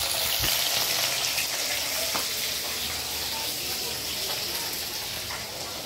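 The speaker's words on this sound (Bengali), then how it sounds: "মাছগুলো কড়াইতে ছেড়ে দিয়েছি, এখন ভালো করে ভেজে নেব" Fish coated with turmeric frying in oil in a wok, a loud, steady hiss and sizzle throughout with a few brief clinks near the start.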